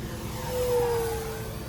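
A 1700mm P-51 RC model airplane at full throttle sweeps past, its motor whine rising and then falling away over under two seconds against a steady outdoor background.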